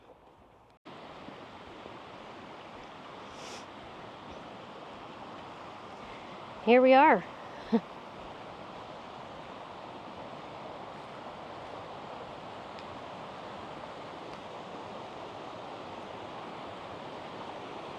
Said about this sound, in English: I can hear the waterfalls from here. The springtime roar.